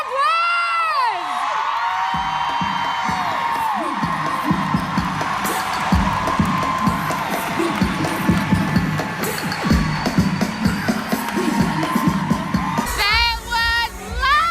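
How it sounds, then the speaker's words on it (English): A summit audience cheers and whoops loudly after a speech by a former first lady, a dense sustained roar of crowd noise with shouts and screams rising above it, ending with a brief burst of voices. "Let's give her a round of applause!"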